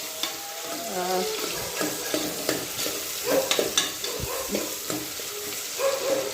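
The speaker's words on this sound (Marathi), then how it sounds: "कांदा परतून घेते मी असा मस्त छान प्रकारे" Onion and capsicum sautéing in a pan for khichdi, a steady close sizzle with scraping stir strokes and occasional clinks, no talking.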